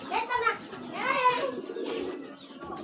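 A racing pigeon, fitted with a racing chip, gives a few close, soft coos in short phrases, with faint handling noise and a hint of voice in the background.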